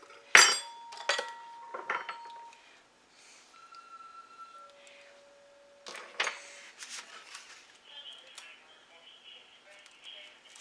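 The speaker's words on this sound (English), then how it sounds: "I'll take a little taste with a fork" A fork clinks and scrapes against a plate while puff pastry with bacon, egg and cheese is tasted: a sharp metallic clink up front, several lighter taps and scrapes, then quieter intermittent clatter, with faint ringing tones in between.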